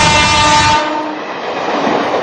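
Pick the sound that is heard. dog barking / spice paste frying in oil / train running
train running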